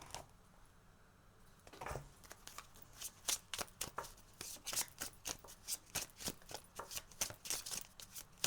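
Star Codes Astro Oracle cards being shuffled by hand, a close, quiet run of crisp riffling flicks repeating in an even rhythm for several seconds after a soft start.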